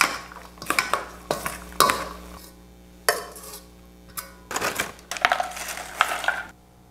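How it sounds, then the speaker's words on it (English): Knife chopping chilies, red onion, tomatoes and cilantro on a board for guacamole or salsa fresca: a loose run of sharp, close knocks and clatters in irregular bursts, with short quiet gaps and no talking. "Finally, chop chilies, red onion, tomatoes, and cilantro."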